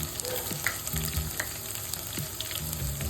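Chana dal, chopped garlic and torn dried red chillies fry in hot oil with a close, busy sizzle, and a spoon scrapes and stirs the pan in short strokes.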